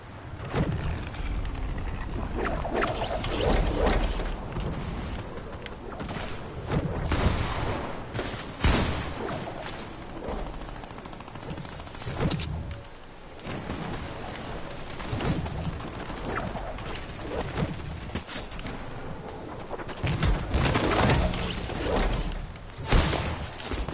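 Gunfire echoes through a Fortnite match, irregular bursts of shots and impacts of varying loudness, some sharp and close, others dull and distant, continuing without talk.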